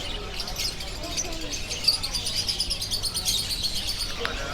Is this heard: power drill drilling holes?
no